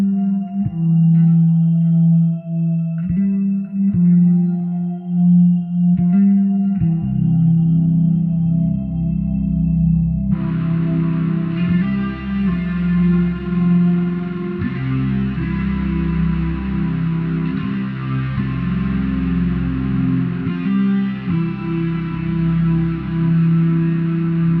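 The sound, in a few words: electric guitar through Quad Cortex chorus, delay, shimmer reverb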